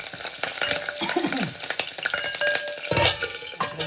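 Green chillies fry in hot oil for a tempering in a fasting-day recipe: a steady, close sizzle with stirring scrapes and light utensil clicks, no voices.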